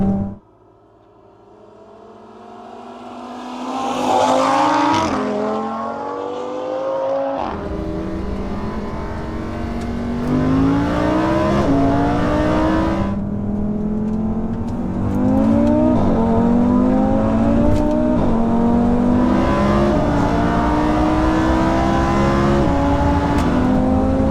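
A modified Audi RS3 races a Lamborghini Huracan: loud, close engine roar climbing through the gears in repeated rising sweeps, each upshift cutting briefly before the pitch climbs again, sustained and powerful over the whole run, with no talk.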